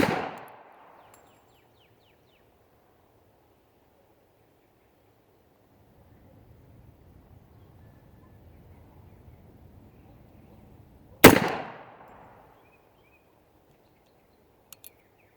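An old Argentine Colt clone .45 pistol fires standard 230-grain ball at an outdoor range: two sharp, loud single shots about eleven seconds apart, each ringing out and decaying, with faint rustling in between.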